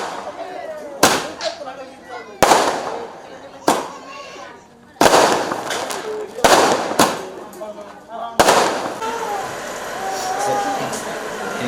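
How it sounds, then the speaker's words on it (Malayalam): Firecrackers burst at a family gathering at an ancestral home in Kerala: about seven sharp, loud cracks arrive at irregular intervals, some in quick pairs, with people chatting in the background between them. "പടക്കം പൊട്ടിച്ചും പൂത്തിരി കത്തിച്ചും മണ്ടുമ്പാല തറവാട്ടംഗങ്ങൾ ആഘോഷത്തിൽ കൂടുതൽ നിറം പകർന്നു"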